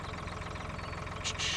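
A tractor engine idles in the farming video game Farming Simulator 2013, a steady low rumbling drone with an even pulse, joined at the end by brief brighter hissing bursts.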